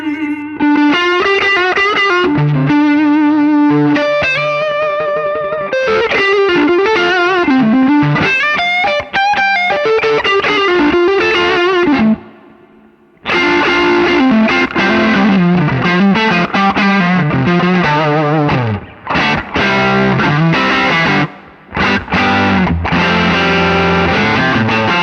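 An electric guitar runs through a Vemuram Jan Ray overdrive pedal with the treble turned up, playing driven, sustained riffs and chords loud and close, with a short silent pause midway and a few brief breaks.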